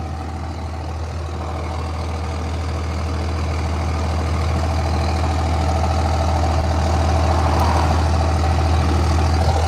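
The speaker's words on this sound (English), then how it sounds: "Let's turn off the engine." A truck engine idles roadside with a steady, low, close rumble and a faint knocking rhythm that holds unbroken for nearly ten seconds, growing slightly louder, with no talk.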